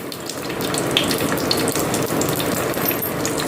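Mustard seeds spluttering in hot oil for a traditional village-style fish curry, a steady dense crackle and hiss throughout with sharp tiny pops scattered over it, close and fairly loud, no voices.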